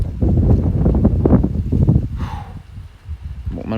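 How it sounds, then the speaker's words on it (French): Strong southwest wind gusting at 40-50 km/h roars loudly across the microphone, a heavy buffeting rumble that surges for a couple of seconds, then eases into a softer, uneven rush. "Regardez-moi ça, regardez-moi ces rafales."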